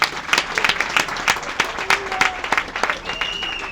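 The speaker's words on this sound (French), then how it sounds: "Une fois de plus, applaudissez pour vous-même." A rally crowd applauds with dense, brisk clapping in uneven bursts, close and lively, with a few voices calling out over it.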